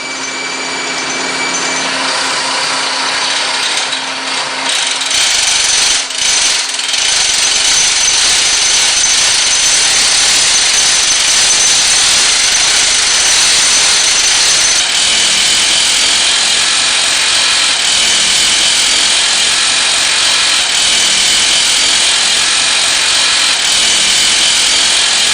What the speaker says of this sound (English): The McLean method allows for the simultaneous installation of bolts and screen on a single pass basis